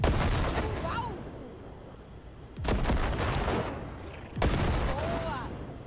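Vehicle-mounted guns on the Basilisk, a cargo hovertank in the video game Cyberpunk 2077, firing two loud, sharp bursts about two seconds apart over a steady engine rumble, while people talk throughout.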